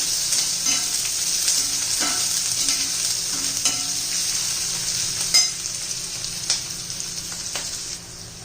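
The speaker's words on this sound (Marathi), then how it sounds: "बारीक फिरलेला कांदा घालायचा आहे कांदा चांगला परतून घ्यायचा आहे आपल्याला" Finely chopped onion sautés in hot oil with curry leaves and crushed garlic, making a steady, close sizzling hiss that runs throughout. Occasional clicks of a spoon stirring sound over it, and the sizzle eases off near the end.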